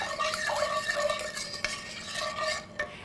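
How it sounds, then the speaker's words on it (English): A spoon stirs salt and pepper into a cabbage casserole that will get sharp cheddar cheese, making close, continuous scraping and swishing strokes against the pot with a couple of brief knocks. "I'm going to stir that."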